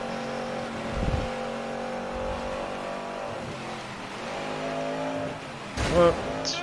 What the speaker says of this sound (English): This car feels good even in the game.